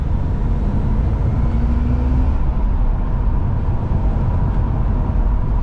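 A BMW E46 accelerating hard from second into third gear, its engine roaring loud, close and steady throughout, with no voices.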